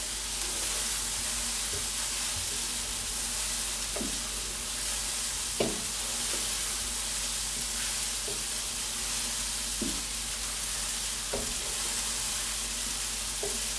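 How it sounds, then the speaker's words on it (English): Steady, loud frying sizzle of Parmesan-coated gnocchi in a pan fills the whole stretch, a dense high hiss broken now and then by soft clinks and scrapes of stirring. "Keep frying that off now."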